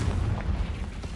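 A Confringo fire spell explodes in the Hogwarts Legacy video game, a heavy rumbling boom that fills the short burst with sustained low-end roar.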